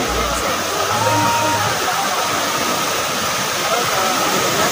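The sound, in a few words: waterfall at Taytay Falls, Majayjay, Laguna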